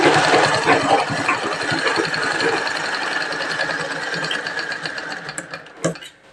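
A sewing machine stitches a prince-cut blouse with a loud, fast mechanical whirring and rattling that runs steadily, then slows and stops near the end, with a brief thump as it halts.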